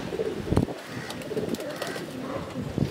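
Pigeons cooing in a loft of flying pigeons, low soft coos repeating at close range with small rustles between them, no talk.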